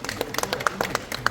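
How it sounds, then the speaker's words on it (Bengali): Audience clapping at a film-related event, a short burst of scattered, individually distinct hand claps from a modest crowd, moderately close and sparse rather than a dense roar. "হেলাল ভাইয়ের জন্য জোরে একটা হাততালি দেন।"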